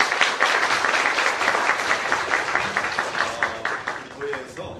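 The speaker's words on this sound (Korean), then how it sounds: "우리 하나님 앞에 영광의 박수를 드리겠습니다." A church congregation applauds during a Baptist church's 50th anniversary thanksgiving and ordination service, dense sustained clapping from many hands that thins toward the end, with a voice faintly audible under it.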